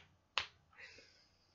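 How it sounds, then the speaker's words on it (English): A single crisp finger snap rings out close by, followed by a softer, fainter rustle in an otherwise quiet room. "I mixed it up with snapping."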